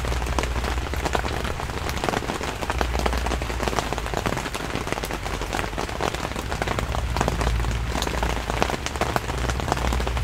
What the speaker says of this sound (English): The pointillist sound of rain sings beautifully of impermanence